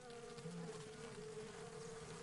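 Honeybees hum steadily around hives set on wooden stilts beside the Uruguay River, a close, continuous insect drone with no voices.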